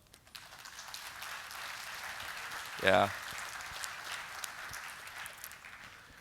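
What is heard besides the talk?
conference audience applause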